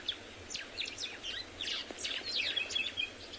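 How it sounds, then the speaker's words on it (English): White-browed sparrow weavers sing a rapid series of sharp, bright chirps at dawn on safari, the notes tumbling over one another against a quiet outdoor background. "Beautiful sharp notes from the white-browed sparrow weavers."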